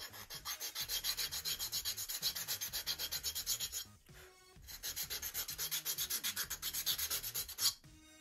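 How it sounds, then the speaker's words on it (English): Sanding a small radius on the wooden rails of a model P-40E Warhawk airplane build, with rapid, regular back-and-forth rubbing strokes in two bursts separated by a short pause. "I'm going to sand a little radius on the rails just to match up with it."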